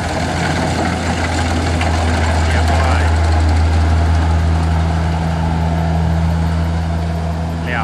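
A Kubota combine harvester works a rice field, its engine running as a steady, loud, unbroken drone throughout, with faint voices now and then.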